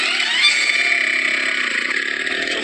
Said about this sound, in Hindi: वो पीयूष की बाइक पर बैठकर पूरे गांव में घूम रही थी।